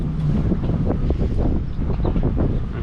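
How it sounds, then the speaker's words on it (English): Wind buffets an unshielded microphone on a boat at a canal lock, a steady loud rumble with gusty swells throughout and no voices. "there's a bit of wind, yep."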